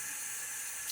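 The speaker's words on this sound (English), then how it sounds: "I think I'm going to keep adding water." A brief, steady hiss of running water from a tap pours into a shaving lather bowl, fairly close and constant for under a second.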